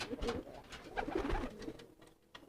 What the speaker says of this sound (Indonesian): Nah tuh giringnya masih seperti ini